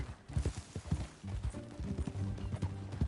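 Horse hooves clip-clop at a steady gallop in the Red Dead Redemption 2 video game, close and fairly loud, with in-game speech and music layered over the rhythmic hoofbeats.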